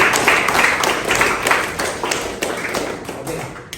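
Students in an Indonesian high school classroom applaud together, a dense, steady patter of many hands clapping that holds for about four seconds before thinning slightly at the end.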